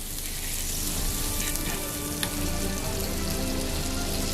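Butter melting in a pan for an Ottoman palace dish, a continuous close sizzle with fine crackle and a soft clink partway through, no voices.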